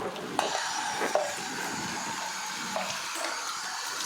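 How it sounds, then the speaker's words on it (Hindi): Water runs steadily into a dual flush toilet tank during valve replacement, a continuous hiss with a few small knocks, with no pauses over the whole stretch. "अभी मैं पानी चालू करूंगा,"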